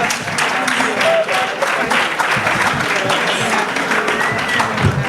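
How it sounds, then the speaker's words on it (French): Audience at an award ceremony applauding a film honoree, dense continuous clapping at a steady loud level throughout, with scattered voices and cheers underneath. "Allez, plus d'applaudissements s'il vous plaît pour la soutenir."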